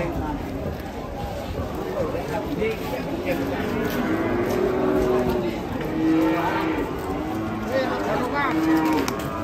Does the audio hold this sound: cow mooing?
yes